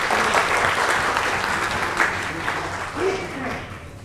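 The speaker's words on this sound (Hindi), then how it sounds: "आप भरपूर तालियों से इनका इस्तकबाल फरमाएं।" Sustained applause from an audience at an awards event fills the space, loud at first and gradually thinning, with voices murmuring faintly underneath.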